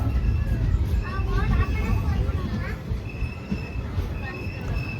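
Shivamogga to Tumkur passenger train leaving a station, with a steady low rumble of rolling cars and faint squealing tones beneath ongoing voices in the carriage.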